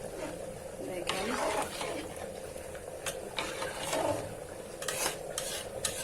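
Goat trotter curry being stirred in a pot, repeated wet scraping and sloshing strokes over a soft bubbling sizzle, close and moderately loud, with no talk over it.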